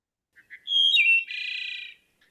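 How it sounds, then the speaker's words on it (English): A wood thrush sings one clear phrase in a quiet setting: a couple of soft opening notes, a fluty rising whistle, then a buzzy trilled ending, close and distinct with no other sound. "This is one of my favorite bird songs. This is the wood thrush."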